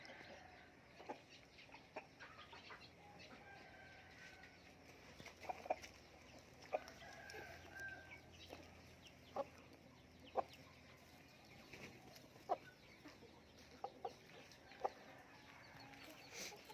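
Fighting roosters in a cockfighting-breed coop on a farm give scattered clucks and short calls at moderate distance, with sharp intermittent clicks and taps over a quiet outdoor background.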